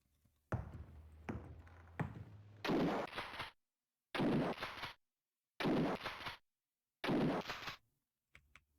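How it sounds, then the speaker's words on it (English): Four loud Winchester rifle shots from the video game Alone in the Dark 3, each a sharp blast with a mechanical action clack, spaced about a second and a half apart and preceded by a few light clicks. "Four shots with the Winchester."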